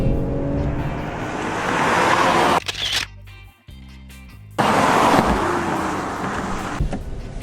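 Engines of a 2020 Toyota Camry TRD and a Mazda6 roar loudly under hard acceleration in a drag race, a steady dense rumble that briefly drops away mid-run, then surges back at full intensity.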